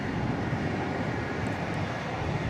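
A British Airways Airbus A380 at DFW Airport at night gives a continuous low engine rumble and rushing noise, steady and fairly loud, alone with no talk.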